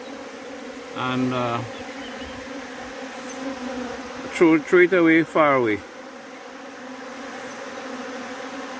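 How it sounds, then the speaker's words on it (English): Honeybees crowd a container in a feeding frenzy, their steady buzzing drone running throughout, while someone talks over it in two short bursts. "the bees are doing their thing"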